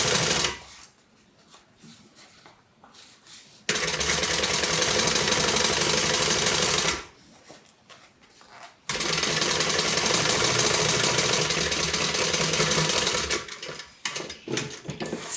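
A sewing machine runs in steady, loud bursts while stitching the folded gusset of a multi-compartment tote bag, with two long runs separated by short pauses and no talking.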